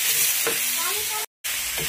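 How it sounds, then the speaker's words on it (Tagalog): Garlic frying in a pan, a loud steady sizzle and crackle close up, broken by a brief moment of silence before the hissing carries on. "Prito na tayo guys na bawang."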